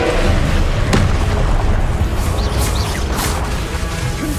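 In a Harry Potter video game, a Confringo spell sets off a loud, continuous roaring blast, with a sharp crack near the start and whooshing bursts layered through a dense rumble.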